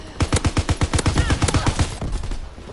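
Rapid automatic gunfire from a PS4 shooter video game, a fast burst of sharp, loud shots in steady rhythm that tapers off after about two seconds, with no talking.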